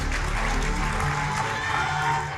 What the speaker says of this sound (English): Huge round of applause for the police.